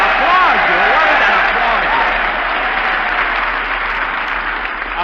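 A live audience of Marines at a 1943 radio comedy broadcast on a base claps and cheers in a dense, loud wash, with a voice talking over the applause.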